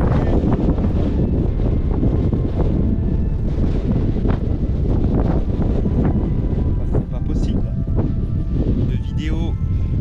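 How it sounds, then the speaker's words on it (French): Heavy wind buffets the microphone throughout on a mountainside at 1000 metres altitude, a constant loud rumbling roar with rustling beneath it. "Il y a un peu beaucoup de vent, je suis encore désolé pour tout ce vent."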